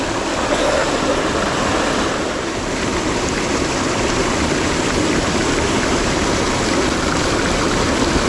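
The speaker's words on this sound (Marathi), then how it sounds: "पाऊस लागलो थोडंसं." Light rain falls outdoors at the start of the monsoon, a steady, dense, even hiss with no voices and no breaks for the whole stretch.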